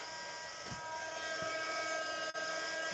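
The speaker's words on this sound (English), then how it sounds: "I'm just going to heat the gun up. I'll do it under the table to try and make the noise not too horrific." A heat gun runs under a table with a steady, broad blowing roar at moderate level, with a few soft thumps and a brief dip in the airflow noise.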